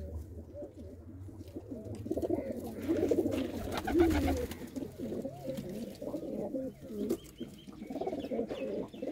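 Breeder pigeons coo in a loft where some sit on eggs and chicks, a steady overlapping chorus of low, throaty rolling coos that continues throughout at moderate loudness.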